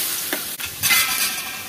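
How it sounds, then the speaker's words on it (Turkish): Tomatoes tipped into a hot pan for sautéing, a burst of hiss and sizzle rising after a brief clatter, then steady frying crackle close by with no voices. "Hemen şimdi tavama domatesleri döküyoruz."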